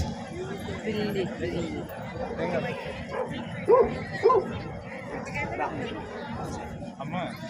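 Small Pomeranian dogs bark and yip in a couple of short bursts amid a busy crowd of chattering voices at a dog show in Rajahmundry.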